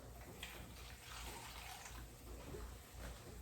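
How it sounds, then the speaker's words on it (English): Tap water running into a bowl of halved potatoes to cover them by about an inch, a steady soft splashing stream with faint gurgles, quiet and continuous. "then we're going to just cover it with about 1 inch of water"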